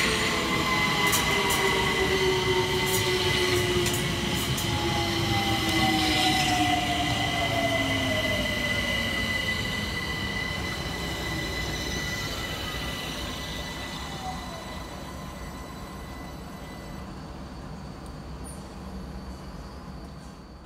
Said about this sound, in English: Arriving next into the station will be 378210, working the 1504 London Overground service from Stratford through to Clapham Junction.